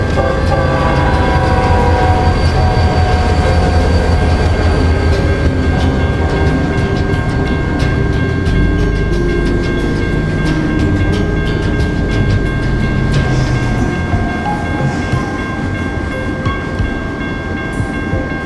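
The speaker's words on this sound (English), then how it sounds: "As the locomotive started to reach the last crossing before entering New Mexico, the train started shaking" Locomotive rolling on rails in a Roblox train simulator, its engine rumbling loud and steady throughout, with horn tones sustained overhead and faint clacking of wheels.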